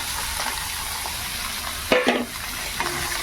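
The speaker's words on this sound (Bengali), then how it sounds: "এখানে পেঁয়াজ ভাজা হচ্ছে" Onions frying in hot oil with garlic, a steady close sizzle with a few scraping stirs of a utensil in the pan near the middle.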